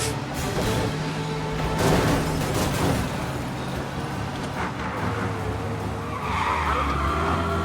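Car driving fast in the Mafia video game, with tires skidding and squealing over a loud, steady engine roar throughout, close and continuous with no talk.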